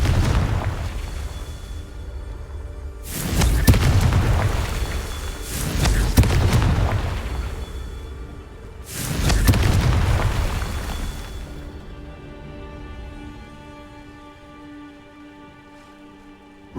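Blasting-spell explosions go off in the Hogwarts Legacy video game: two heavy booming bursts a few seconds apart, each with a loud rumbling blast that trails away into faint lingering tones.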